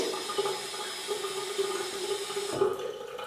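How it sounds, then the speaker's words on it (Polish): A small stream of water runs steadily from a tap into a hand, splashing softly, then cuts off near the end. "To dodaję ociupinkę wody"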